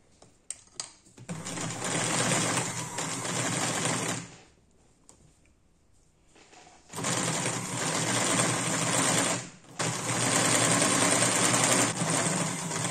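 A sewing machine stitches seams on a bed-building project in a home workshop, running loud and steady in two long bursts with a brief pause between them, a few short clicks at the start, no talking.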